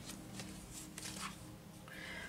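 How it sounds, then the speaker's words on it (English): Tarot cards spill and fall during a shuffle, giving a few quick soft papery flicks and slaps close by over a quiet room background. "the cards are falling"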